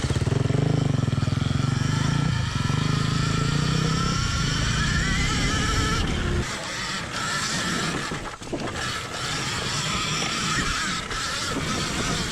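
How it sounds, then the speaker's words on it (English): An Alta electric dirt bike being ridden, with a loud continuous motor whine and wind rush that shifts and eases partway through as the bike moves. "This thing is like the ultimate pit bike."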